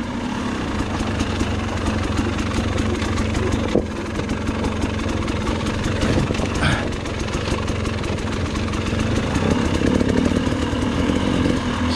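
An enduro motorcycle climbs mountain switchbacks in Montana, its mid-pitched engine droning steadily and close for the whole stretch with no pauses and no talk.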